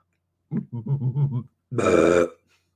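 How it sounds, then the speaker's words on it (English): A man fakes a burp with his voice: a short grunting vocal burst, then a longer, louder, rasping belch-like sound, close and alone with no other talk. "I'm faking it. I can't burp at all."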